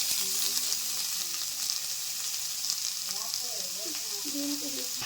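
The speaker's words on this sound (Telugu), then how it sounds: "దానికి ఒక కప్పు పంచదార తీసుకు సొరకాయ తురుముబడి నెయ్యిలో వేసుకొని వేయించుకోవాలండి పచ్చివాసన పోయేంత వరకు" Grated bottle gourd fries in ghee with sugar for a halwa, giving a steady soft sizzle with occasional stirring, while a voice talks faintly in the background.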